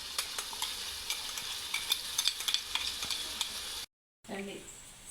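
Ginger-garlic paste fries with onions in a pan, giving a steady close hiss with scattered scraping clicks from stirring, then a brief drop to silence before the frying resumes.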